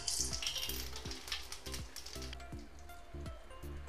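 White cumin seeds fry in reused oil, a soft crackling sizzle with light spattering over a low rhythmic pulsing hum, fairly quiet and steady, no talking.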